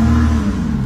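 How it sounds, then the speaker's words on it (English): Engine of a Lotus 3-Eleven 430 car starting up, a loud close rumble that swells briefly and then settles into a lower steady tone. "the engine starts"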